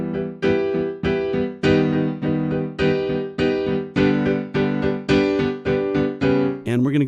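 Piano working through a chord-progression exercise: about a dozen sustained chords struck one after another at a steady, even pace, each ringing briefly before the next, played alone and close.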